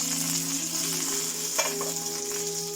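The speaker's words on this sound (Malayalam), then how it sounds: "കടുക് പൊട്ടട്ടെ." Mustard seeds pop and splutter in hot oil for a traditional Kerala dish, a steady close sizzle with a few sharper crackles scattered over it, no voices.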